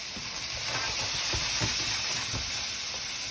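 Celery and carrots sizzle steadily in a hot pan on an electric stove as stuffing is started, a continuous close frying hiss with soft stirring scrapes throughout.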